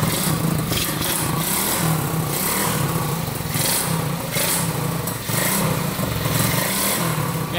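The 110cc electric-start engine of a homemade rat rod motorbike runs steadily and loudly nearby, a constant buzzy drone with slight rises and dips in revs throughout and no talking over it.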